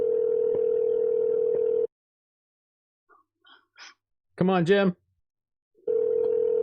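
An outgoing telephone call's ringing tone: a steady tone comes through clearly, falls silent, then sounds again, with short remarks from a man in the gap.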